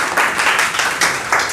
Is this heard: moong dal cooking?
no